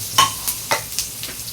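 Onion and garlic browning in a frying pan for kaldereta, a close sizzle with a few crisp stirring scrapes at irregular intervals, fairly loud and with no talk over it.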